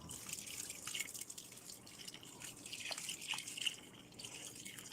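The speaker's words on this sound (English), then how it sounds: "add a bunch of water" Water poured into a bucket of clay for mixing, a continuous trickling and dripping splash at close range, steady throughout.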